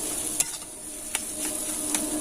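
Fried egg is stirred into a sizzling potato mixture in a pan, a soft frying hiss punctuated by three sharp scrapes of a utensil against the pan, close by and without talk.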